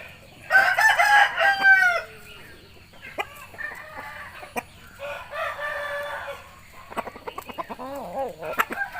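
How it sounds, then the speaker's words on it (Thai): A well-fed, healthy rooster crows loudly and close by, then clucks in short bursts while being exercised. More clucks and scattered chicken calls follow in uneven clusters, with no talking. "งามไก่ตัวหนึ่งเลย"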